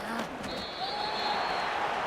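Stadium crowd in the Madden NFL 25 football video game, a steady wash of applause and cheering, loud and continuous, with a commentator's voice over it.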